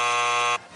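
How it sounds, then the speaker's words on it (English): A quiz show buzzer on a game show sounds once: a single loud, harsh, sustained buzz of about half a second that cuts off abruptly, leaving quiet room tone. "that's the sound of the buzzer now, Greg."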